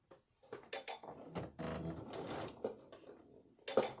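A sewing machine stitches a shoulder inset on a garment, a close, steady mechanical whirr in short runs broken by brief stops, with no one talking.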